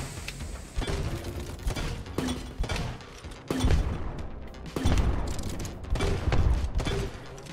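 Repeated gunshots from a regular gun in the video game Eastward, a burst of sharp cracks over busy game effects and a low music bed, firing in uneven clusters across the stretch with no talking.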